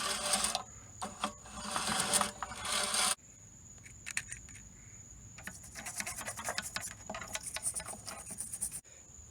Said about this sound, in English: I'm trying to remove the head gasket